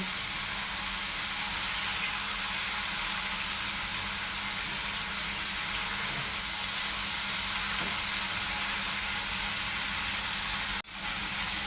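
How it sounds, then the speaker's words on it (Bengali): Prawns coated in salt and turmeric sizzle steadily in a hot pan, a continuous close frying hiss that stays even throughout, with a brief dip near the end. "এখন আমি মাছগুলো ভেজে নিচ্ছি।"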